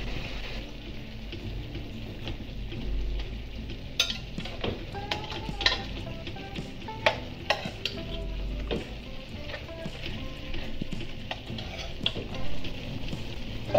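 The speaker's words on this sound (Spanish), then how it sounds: "Vamos a dejar sellar el pollo por un lado." Chicken pieces sear in a hot pan, a steady loud sizzle with frequent sharp pops and occasional stirring and scraping clatter.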